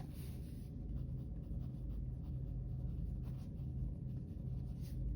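Pen scratching steadily across paper during a class 10 trigonometry lesson, a continuous close writing scratch with low room rumble underneath and no talk over it.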